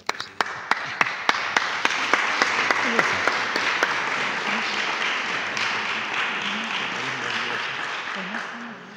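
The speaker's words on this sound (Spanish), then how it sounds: "Un aplauso." Applause from the audience at a book presentation about a parish church, opening with a few sharp isolated claps that quickly swell into sustained, dense clapping from many hands, with some faint voices underneath.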